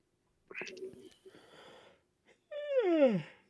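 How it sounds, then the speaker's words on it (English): A single person yawns, starting with a breathy inhale and ending in a long, descending, voiced exhale that is fairly close and clear, with no other sounds. "I'm yawning after a cup of coffee"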